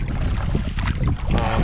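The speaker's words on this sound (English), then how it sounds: "Apologize for the wind, it's a windy day today." Strong wind rushes across Joe Lake in Algonquin Park on a gusty day while a solo canoe trip paddles up the lake. It gives a loud, steady roar and buffeting on the microphone throughout.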